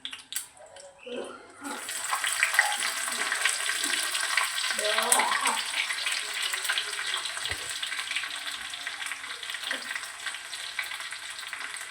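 Garlic dropped into hot oil for a vegetarian lunch thali sizzles up sharply after a quiet start, then holds a steady, fairly close hiss with faint stirring scrapes and brief voice fragments underneath.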